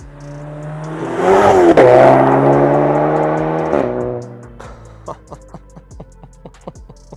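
Loud revving from a Stage 2 Seat Leon Cupra's engine and exhaust, a sustained roar with a sharp blip, fading after about four seconds into quiet with scattered clicks and knocks nearby.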